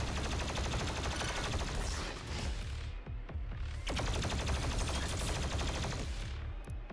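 Shotgun fire in the video game DOOM Eternal comes as loud, dense repeated blasts amid chaotic combat noise, briefly thinning near the middle before another heavy volley, with no talking.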